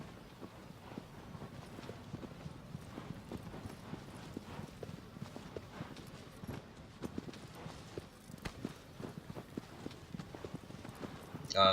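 Horse hooves clip-clop in a steady galloping rhythm in the video game Shadow of the Colossus (2018), moderately close and continuous throughout, with faint talk in the background.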